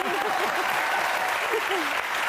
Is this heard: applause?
yes